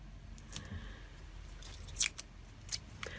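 Short strips of washi tape being torn off the roll for a scrapbook journal, several quick crisp rips and crinkles spread over a few seconds, close and fairly quiet.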